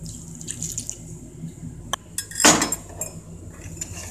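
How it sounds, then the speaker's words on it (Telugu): A cup of water poured onto chopped jaggery in a bowl for a ragi sweet, a short splashing pour with light clinks of the cup and vessel, close and clear in a quiet kitchen. "ఈ బెల్లంలో ఒక కాఫీ కప్ వాటర్ యాడ్ చేసుకొని కరిగించుకుందాం"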